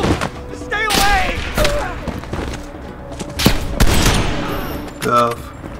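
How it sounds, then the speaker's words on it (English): Enemy gunfire in Call of Duty: Black Ops Cold War, with repeated sharp shots and bursts mixed with booms and thuds throughout, and a voice shouting over the firefight. "they're shooting at us!"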